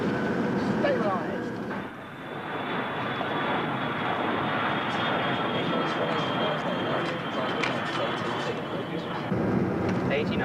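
A British Airways airliner's jet engines roar during the takeoff roll on runway 27 right, a loud, sustained broadband rumble and whine heard from inside, with crew voices talking over it.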